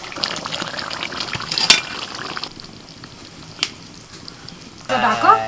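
Nababi chicken gravy bubbling uncovered on high heat, a steady close sizzle and simmer with occasional sharp utensil clinks and a louder burst of sizzling at the end.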